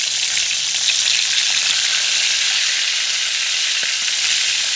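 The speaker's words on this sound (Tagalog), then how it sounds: "Magprito tayo ng isda." Fish frying in hot oil at home, a steady dense sizzle close by that holds level throughout with no talk.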